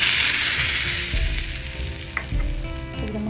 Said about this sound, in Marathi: ही तयार फोडणी आता मी ह्या चटणीवरती ओतून घेणार आहे बघा